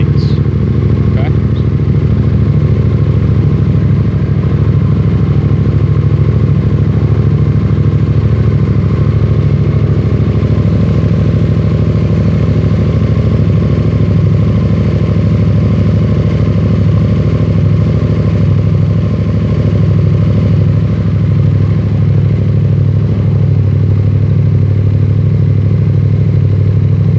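A motorcycle engine idles steadily for the whole stretch, a continuous low rumble with light mechanical clatter, close and loud, with no talking over it.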